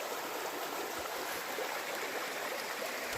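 Water in a mountain stream along an Appalachian trail rushes steadily with a constant, hissy flowing wash that stays even throughout, with no talking.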